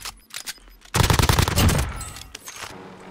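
Full-auto fire from an AMP63 pistol in Call of Duty Warzone comes as a rapid, loud, sustained burst of shots lasting about a second. Scattered single shots are heard before and after the burst.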